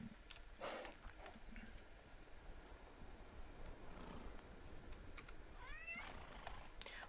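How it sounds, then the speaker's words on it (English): Faint, quiet meows from a cat, a couple of short calls including a rising one near the end, over soft background noise and light clicks. "What, kitty cat?"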